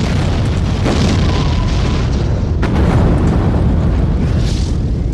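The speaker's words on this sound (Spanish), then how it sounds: "ellos lo que hicieron es quitar el pabellón real y en su lugar colocar la explosión de la maqueta mía" A large miniature model of a pavilion blows up as a film effect, a loud, dense, rumbling blast with a second burst midway, sustained noisy roar throughout with no talk.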